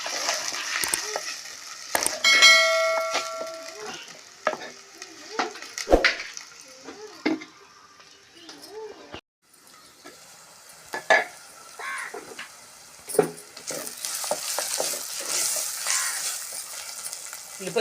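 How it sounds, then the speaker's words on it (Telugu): Sliced onions sizzling in a pan with a little salt while cooking a drumstick chicken curry, a soft steady fry broken up by scraping and stirring clatters, with occasional quiet talk nearby. "ఉల్లిపాయలు వేగిపోయాయండి"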